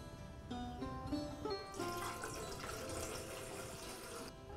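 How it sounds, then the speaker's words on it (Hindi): Water is poured into a cooking pot in a home kitchen, a steady close splashing and trickling stream that starts after a moment of faint clinking and runs on evenly before stopping. "पानी डाले के"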